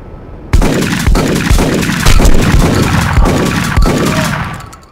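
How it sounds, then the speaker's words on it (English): Heavy gunfire in the video game 25 to Life, loud close bursts of rapid shots with sharp individual cracks over several seconds, trailing off at the end. "That's a lot of shots"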